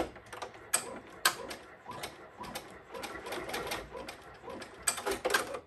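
An embroidery sewing machine stitching down ribbon on an in-the-hoop pot holder, a rapid mechanical clatter of needle strokes with irregular louder clicks, close and continuous.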